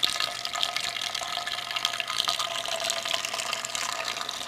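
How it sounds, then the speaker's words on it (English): An air-lift bubble pump pushes water up a pumping tube into an upper tank, giving a steady, close gurgling and splashing rush of water and air bubbles that continues evenly throughout with no voices. "you can see that the air coming up the pumping tube up here is bringing water with it"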